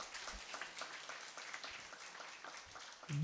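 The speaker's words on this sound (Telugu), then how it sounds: "సంతోషంతో అందరూ ఒకసారి గడి చప్పట్లు కొట్టిన అందరూ" A church congregation at the Mariyagiri shrine in Veeraghattam claps together during novena prayers, a faint, steady patter of many hands that ends in a sudden loud thump.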